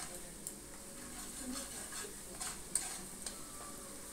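Spice paste sautéed in oil with salt for a cauliflower, potato and soy chunk dish, a faint steady sizzle with occasional light scrapes and taps of a spoon in the pan.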